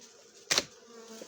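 Wasps and bees near a wasp trap at an autumn apiary give a short, loud buzzing burst as one flies close past, then fade back into a soft background hum.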